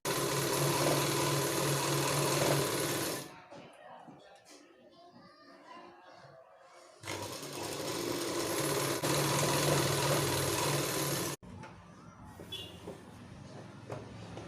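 Sewing machine stitching along the edge of a saree blouse with matching-colour thread, two sustained loud bursts of dense mechanical whirring separated by quieter pauses.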